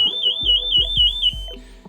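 CO2 gas alarm inside the La Profunda mine in Cármenes, a loud warbling electronic tone repeating in quick pulses for over a second, with low thumping underneath, then cutting off.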